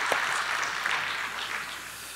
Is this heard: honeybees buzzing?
no